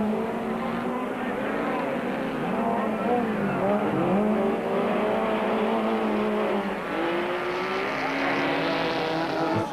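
Ford and Toyota Hilux rally cars racing uphill and through corners, engines revving loud and close with rising and falling pitch as they shift and slide, and a faint hint of voice underneath.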